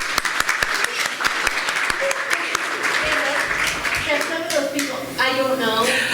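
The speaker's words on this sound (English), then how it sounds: "also deserve some applause" An audience at an annual community meeting gives a round of applause for volunteers, with scattered sharp claps at first, then a fuller clapping under voices that start talking and chatting nearby.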